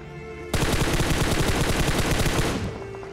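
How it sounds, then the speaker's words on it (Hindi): Rapid automatic gunfire in the battle royale game BGMI, a loud, dense burst of shots that starts abruptly and holds steady for about two seconds, then cuts off, with no talking. "यहाँ पे मैं अभी फायरिंग करता हूँ, तो देखो वो फायरिंग से क्या होता है"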